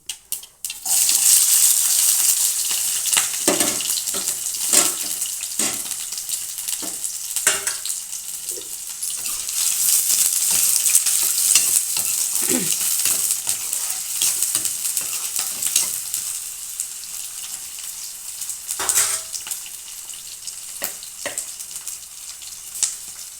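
Green chillies and onions fry in a pan with a loud, continuous sizzle close by, broken by scraping stirs of a utensil.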